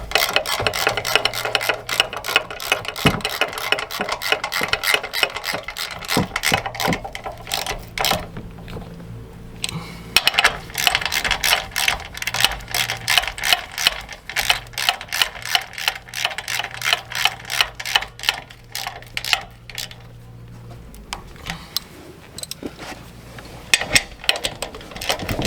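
Hand tools snugging bolts back down on a vehicle during a walk-around repair, giving rapid repeated ratchet clicks in bursts with brief pauses, close and fairly loud, with no talking.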